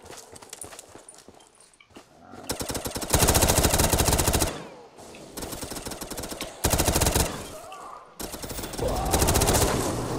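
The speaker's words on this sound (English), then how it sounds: "Minigun time." Rapid minigun fire in Call of Duty Black Ops 3 custom zombies on a desert arena map comes in several long, loud, dense bursts. Short gaps separate the bursts, and other game noise fills the background.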